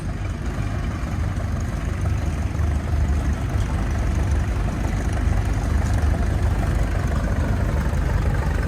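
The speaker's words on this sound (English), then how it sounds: "Next up we got a Case tractor coming at us." A 1929 Case tractor engine runs steadily in a show parade, a constant low, chugging rumble close by with no talk over it.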